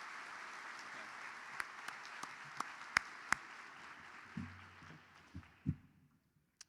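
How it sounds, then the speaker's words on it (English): Sparse audience applause at a university law school commencement ceremony fades out quickly, with a few sharp claps and thuds standing out before near silence. "Please join me in a much-deserved round of applause for both Professor Bach and Professor Good."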